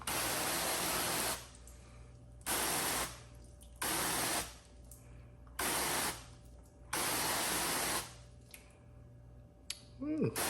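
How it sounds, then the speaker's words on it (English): A trigger spray bottle on its mist setting sprays ceramic spray coating in five long bursts of broad hiss, each lasting about a second. The bursts are separated by short quiet gaps. Faint background noise runs between them. "So let's check again with the mist setting. Start with ceramic spray coating."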